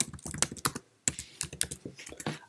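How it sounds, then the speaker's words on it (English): Quick bursts of typing on a computer keyboard, close and fairly loud, with clustered key clicks, one short pause, then more keystrokes in an uneven rhythm. "let's type basic videos, Office 365"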